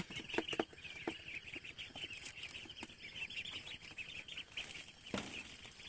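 Many ducklings about two weeks old peeping at night in a dense, continuous chorus of high chirps, with soft patter and shuffling nearby, no one speaking.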